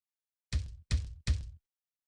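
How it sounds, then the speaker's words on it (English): Three heavy, evenly spaced thuds of fists pounding on a door in the video game Snowbreak, close and loud, each blow dull and booming, with silence before and after. "that is not a knocking, that's more like people punching my door"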